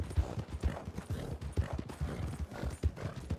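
Rhythmic hoofbeats of a galloping horse in Red Dead Redemption 2 roleplay, steady and fairly close, with no voices over them.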